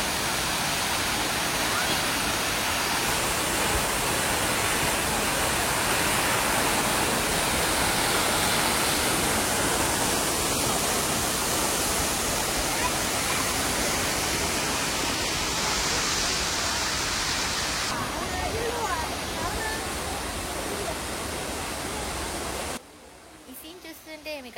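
Jeongbang Waterfalls on Jeju Island roar in a dense, continuous rush of falling water, loud and steady for the whole stretch before dropping away abruptly near the end.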